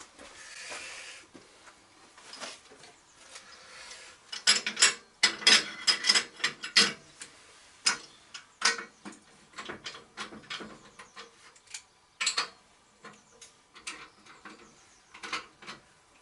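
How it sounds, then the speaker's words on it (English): Bolts on the bed extension of a Record CL3 36-inch wood lathe are nipped up with a big adjustable spanner, giving irregular metallic clicks and ratcheting clacks in bursts, close and fairly loud, with quieter gaps and no talk. "Now I want that big adjustable spanner."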